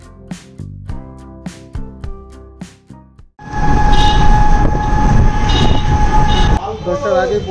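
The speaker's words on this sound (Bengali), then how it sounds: "8:12-তে একটা ট্রেন আছে, দত্তপুকুর লোকাল" A Dattapukur local train at a railway station arrives loud and close after a few seconds of music, with a heavy rumbling roar and a sustained horn-like tone that fades near the end.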